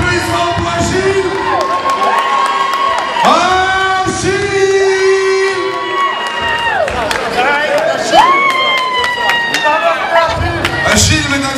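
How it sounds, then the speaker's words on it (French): A crowd cheers and claps loudly over lively music with shifting tones, whoops rising above the steady noise of the audience. "Attendez un applaudissement pour Achille."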